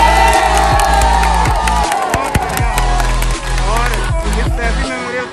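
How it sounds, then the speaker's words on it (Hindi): Crowd at a kite-fighting event in Lucknow, India, cheering and clapping loudly and continuously, with whoops and voices mixed in and a steady low hum beneath. "तालियां बजा दो भैया इनके लिए।"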